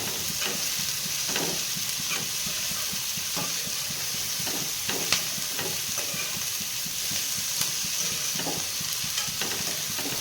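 Green chillies and onions sizzling in plenty of oil in a pan, a steady close frying hiss broken by repeated scraping strokes of a spoon stirring them.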